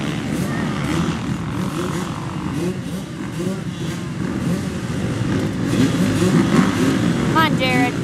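A motocross bike engine runs steadily at a motocross track in Scottsburg, Indiana, as a droning, close, continuous hum that rises slightly toward the end, with people talking over it.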